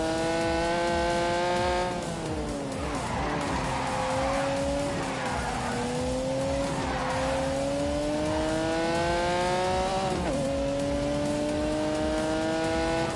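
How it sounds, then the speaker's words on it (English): A 5-litre V12 sports car from 1985 racing in The Grand Tour Game: a steady, loud engine drone rising and falling with gear shifts, with tyre squeal and skidding noise running under it. "when you unleashed this 5-litre V12, it would do 180 miles an hour"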